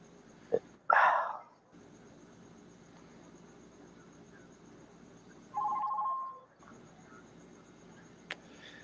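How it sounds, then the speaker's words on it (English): A telephone gives a single short electronic ring burst near the middle, moderately loud in a quiet room, after an earlier brief noisy thump and with no voices over it. "Phone's ringing"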